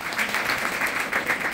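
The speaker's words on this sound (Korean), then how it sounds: "박수드립니다" Guests at a Korean wedding ceremony applaud together after the bride and groom enter, a steady, dense wash of clapping that holds at an even level for the whole moment, with no clear voices over it.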